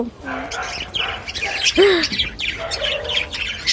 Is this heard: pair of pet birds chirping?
yes